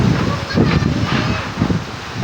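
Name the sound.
strong wind and rain storm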